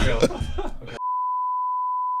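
A fire alarm sounds as one loud, steady electronic tone that holds for over a second and cuts in sharply right after a burst of talk.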